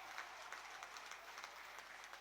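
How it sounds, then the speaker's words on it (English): Steady applause from a football crowd at a Peterborough United (Posh) home match against Cardiff, rising and falling as a broad wash of clapping without pause. "Generous applause from the crowd."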